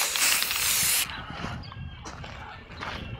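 An aerosol can sprays paint onto a speaker cabinet. A loud, bright hiss runs for about a second, followed by quieter short bursts of spray with small handling noises between the light coats.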